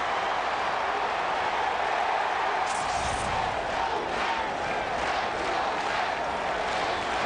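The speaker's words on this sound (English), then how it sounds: "All of a sudden, this crowd is energized." Baseball stadium crowd at a Mets versus Cardinals game roaring steadily and energetically, a broad, continuous wall of cheering that swells slightly mid-way, with no clear individual voices.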